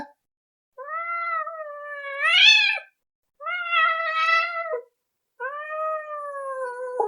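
A cat having its claws clipped lets out three loud, drawn-out meows separated by short silences, the middle one rising into a strained wail.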